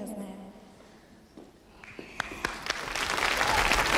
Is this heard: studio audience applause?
yes